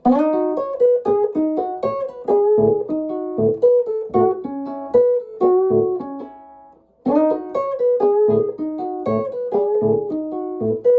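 Acoustic Chicago blues guitar with a steady thumping low A-string bass note under picked melodic phrases, played close, pausing briefly midway before resuming.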